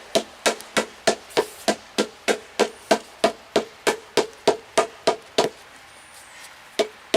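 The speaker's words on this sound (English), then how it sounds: "Tap it in with the rubber hammer." Rubber hammer tapping a stone step into place, about eighteen evenly spaced, close, solid thuds in a steady rhythm, then a pause and two more taps.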